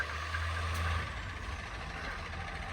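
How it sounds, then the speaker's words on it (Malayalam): A truck drives along a snowy road during a Canadian snowstorm, its deep engine rumble steady and moderately loud, with a brief hiss partway through. "ഒരു ട്രക്ക് വരുന്നുണ്ട്."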